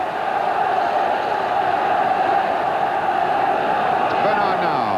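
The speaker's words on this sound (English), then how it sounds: "there's good noise coming up from this crowd" A large football crowd of around 31,000 at Derby County versus Everton, a steady, loud roar of many voices swelling and holding throughout, with a commentator's voice running over it.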